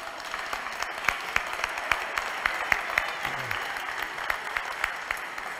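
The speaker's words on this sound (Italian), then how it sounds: "Benissimo, un applauso." An indoor crowd at a church prize-giving after a Mass applauds steadily, with sharp, regular hand-claps standing out over a dense wash of clapping that holds at an even level throughout.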